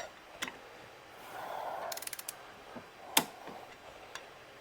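A wrench checks torque on freshly Loctited flange bolts, giving a quick burst of ratchet clicks, then a sharp metallic clack and a few scattered ticks, close and fairly quiet.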